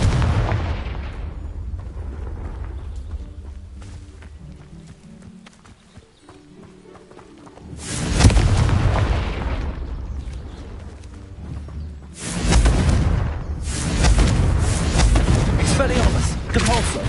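Confringo blasting spells in the video game Hogwarts Legacy land as heavy booming explosions, two loud bursts after a quieter stretch of rumbling and clatter.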